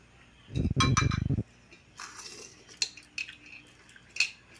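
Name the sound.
opening lid of biryani cooking pot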